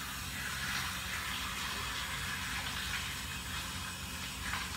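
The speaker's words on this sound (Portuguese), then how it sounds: "Vamos ligar o chuveiro." A shower running to give a small dog a lukewarm bath indoors, a steady broadband spray hiss that holds evenly from start to finish with no voices over it.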